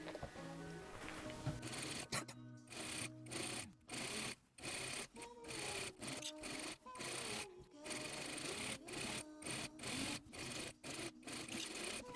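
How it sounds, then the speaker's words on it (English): A sewing machine stitching two layers of a silk couture dress together, running in rapid bursts separated by short pauses, close and fairly loud. "now we can go ahead and sew these two layers together"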